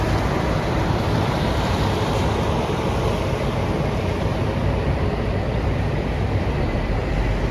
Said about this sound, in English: It appears I'm catching Rivercat class ferry Marjorie Jackson.